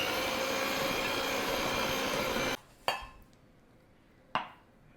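An electric mixer beats flour into pink sugar cookie dough with a steady, loud whirring drone for a few seconds, then cuts off abruptly, followed by two sharp clinks of a utensil against the bowl.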